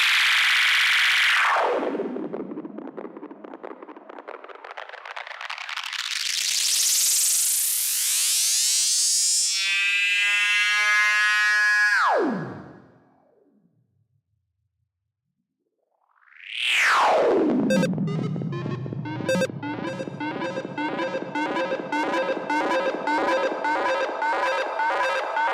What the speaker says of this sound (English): if you raise the feedback over 100 and you shorten the time, it will start to auto oscillate